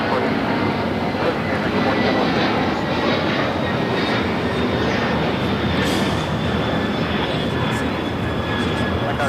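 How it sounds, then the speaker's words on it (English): A DHL Boeing 767-300 converted freighter operated by ABX Air takes off at LAX, producing a steady, loud, unbroken jet roar throughout, with voices faintly underneath. "This is DHL operated by ABX Air 410 taking off to Cincinnati on the 767-300 converted freighter"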